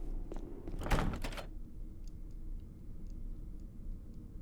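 A heavy door thunks once in the Resident Evil HD mansion as a locked door refuses to open, a short loud knock cluster followed by a low ambient game hum.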